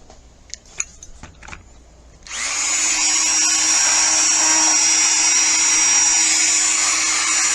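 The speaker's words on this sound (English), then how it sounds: "I'm using the same cutoff wheels I used to cut track with." A cutoff wheel spins up suddenly after a few light taps and then whines loudly and steadily nearby for several seconds, a shrill sustained tone with no breaks.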